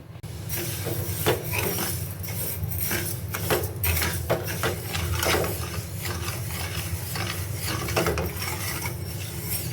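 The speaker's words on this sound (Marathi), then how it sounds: "आपण साखर सतत ढवळत राहायची आहे जेणेकरून ती लवकर विरगळेल" Sugar and water being stirred in a pan to make syrup for amrut pak barfi, a steady metal-on-pan scraping and clinking with bursts of spoon strokes, close and continuous without talk.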